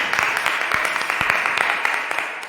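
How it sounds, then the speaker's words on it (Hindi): A church congregation gathered for Hindi prayer claps loudly in welcome, a dense steady patter of many hands filling the room for a few seconds. "अपने परमेश्वर के जोरदार तालियों से स्वागत करते हैं"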